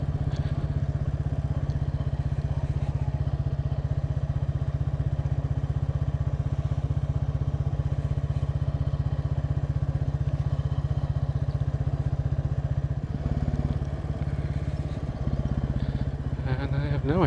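A Royal Enfield Bullet 350 motorcycle riding at low speed, its steady thumping engine drone continuous and close underneath, with a slight shift toward the end.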